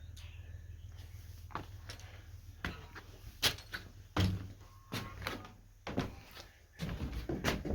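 Old wooden screen door at a historic ranch homestead, a series of sharp knocks and clacks as it swings and bangs shut, scattered irregularly over a low steady hum, fairly close.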